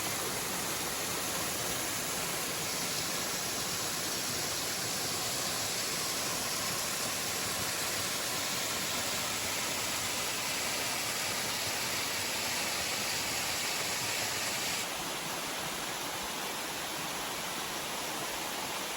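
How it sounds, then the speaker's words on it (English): A waterfall along the Appalachian Trail pours in a continuous, even hiss of falling water, moderately loud and unbroken, with no voices. "Another view of the waterfall."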